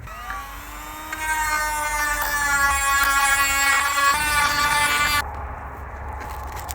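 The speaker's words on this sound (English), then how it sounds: "I'm using my battery operated Dremel tool with a sanding drum on it to get the rust off these long bolts." A battery-powered Dremel rotary tool fitted with a sanding drum grinds rust off long bolts, giving a steady high-pitched whine that rises after a second and holds, then drops to a quieter tone near the end.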